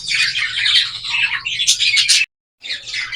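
A cockatiel kept by a breeder calls in loud, dense bursts of squawks and chirps close by, pausing briefly near the end before resuming.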